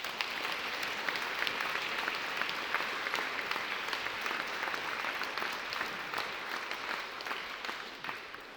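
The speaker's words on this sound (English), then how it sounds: "In his absence, let's applaud Tim Heads." An audience at a graduation ceremony applauds in a long, sustained wash of many hands clapping, steady and moderately loud from start to finish, with no talking over it.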